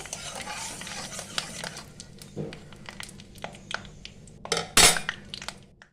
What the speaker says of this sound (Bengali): ফোড়নটা ভালো করে ভাজা হয়ে গেছে